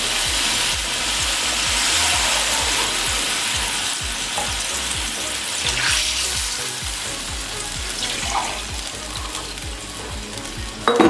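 Yakhni mutton stock pours into hot fried spices for mutton pulao and sizzles loudly and steadily, a dense crackling hiss with faint stirring underneath that stays close and constant.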